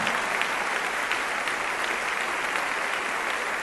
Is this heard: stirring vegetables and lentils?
no